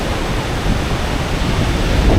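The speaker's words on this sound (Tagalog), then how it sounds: "Ayan yung waves, ang lalaki." Loud, steady roar of big ocean surf at Patapat Viaduct with heavy wind noise buffeting the microphone, waves crashing continuously close by.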